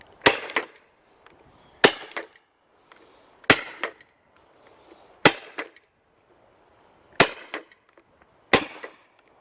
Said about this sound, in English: today I'm going to be testing the ICS MGL with CO2 40mm Moscart rounds